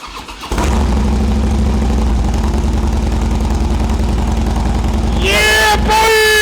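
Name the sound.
Harley-Davidson Dyna motorcycle engine starting and idling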